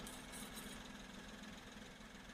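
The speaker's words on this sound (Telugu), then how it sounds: "ఇంజన్ చాలా స్మూత్ ఉంది." A 2013 Maruti Wagon R VXI petrol car engine idles smoothly and quietly, a faint, even, continuous hum with no talking.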